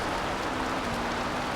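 Steady rain pours over a racing scene in Forza Horizon 2, with a Subaru Impreza rally car on a hilly road; a dense, even wash of hiss fills the whole moment with a faint low hum underneath and no voices.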